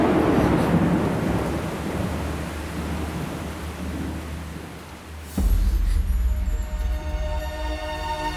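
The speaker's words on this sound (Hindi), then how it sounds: "कितनी बारिश हो रही है?" Heavy rain falls in a dense, hissing wash, and a deep roll of thunder builds early before easing off. Partway through, a sharp loud crack of thunder strikes close by and rumbles on under the continuing downpour.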